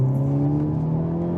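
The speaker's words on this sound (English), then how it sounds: "Every time you do the reduction or the upshift on it, exhaust makes some incredible noise on this vehicle" A 2022 Hyundai Elantra N performance sedan in manual mode, its exhaust droning steadily with a loud, even engine tone held through the short span, no distinct shift pop audible.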